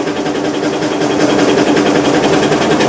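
Straw-handling machine running as straw is fed in and comes out, giving a loud, steady, rhythmic mechanical drone with a constant buzzing clatter throughout.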